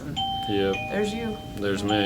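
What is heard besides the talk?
door entry chime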